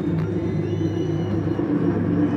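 Scirocco race cars sit on the grid in a racing video game at the Dragon Tail Seaside circuit, engines held at steady revs in a low, humming rumble before the start.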